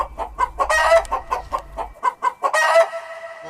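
A hen clucks loudly and up close in a rapid, rhythmic series of short clucks, with two brief squawking flurries among them.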